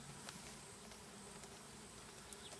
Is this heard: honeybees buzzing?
yes